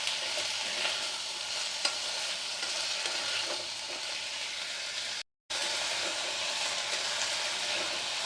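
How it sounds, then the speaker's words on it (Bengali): Pumpkin being stir-fried with bottle gourd leaves in a pan, a steady close sizzle with stirring scrapes throughout and one brief dropout near the end. "মিষ্টি কুমড়ো দিয়ে একটু নাড়ব।"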